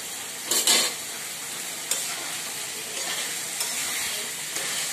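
A curry is stirred and sautéed in a pan after salt goes in, with a steady close sizzle and a few brief scraping stirs standing out from the frying hiss.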